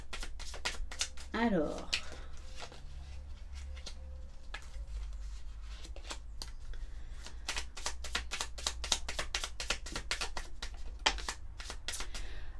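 Tarot cards are shuffled in quick crisp riffles and flicks, close and fairly quiet, under someone speaking French throughout.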